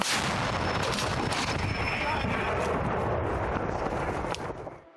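A heavy frontline artillery gun blast booms close by, its roaring rumble rolling on for several seconds before fading, with wind buffeting the microphone.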